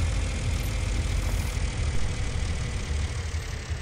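A tractor engine idles steadily in the Farmer Sim 2018 farming game, a continuous low, rumbling drone that holds at a constant level with no talk over it.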